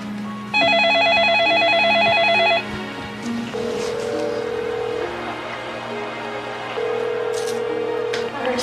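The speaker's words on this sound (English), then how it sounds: "10-year-old Melissa went to call on the portable phone." A portable cordless telephone being dialed produces a loud run of steady keypad tones lasting about two seconds. Long sustained dial or ringback tones follow, with a quieter background underneath.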